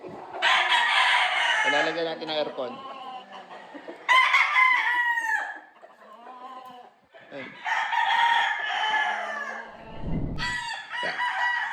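Roosters crow repeatedly and loudly at close range, with long ringing calls amid clucking chickens, while someone speaks briefly between crows.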